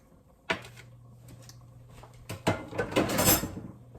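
Texas tortilla stroganoff being stirred in a pot: a sharp metallic clink of utensil on pot, a quiet pause, then more knocks and a burst of scraping, clattering stirring, close by.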